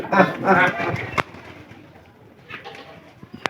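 Pigeons coo softly in a loft where the birds are not breeding properly and are spoiling their eggs, with someone talking loudly over the first second and faint coos and flutters afterward.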